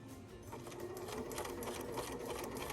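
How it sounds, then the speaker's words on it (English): A sewing machine runs steadily, stitching a straight quarter-inch seam down the edge of a fabric drawstring bag in one continuous, close and even hum. "we sew all the way down the length of the bag in one straight line"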